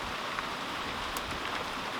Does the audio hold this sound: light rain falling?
yes